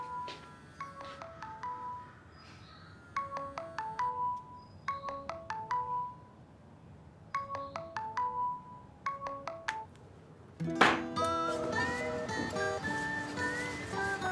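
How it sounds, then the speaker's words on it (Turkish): Phone ringtone playing a repeated melodic pattern of short chiming bursts with brief pauses, fairly faint, then a louder musical passage takes over near the end. "Telefon çalıyor."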